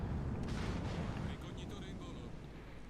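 A warship's main guns firing a broadside in World of Warships Legends, a heavy booming salvo followed by a long, loud rumbling roar, with a voice talking over it.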